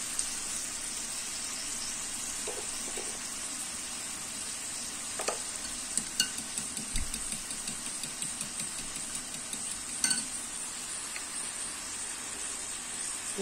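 Four eggs sizzle and fry in a pan over butter and beans, a steady, fairly quiet crackling hiss with occasional small pops and utensil taps, no voices.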